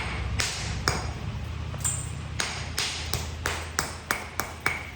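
Sharp stone-on-stone strikes ring out as flakes are knapped off Tallahatta quartzite, about a dozen crisp taps that grow quicker toward the end over a low steady background hum.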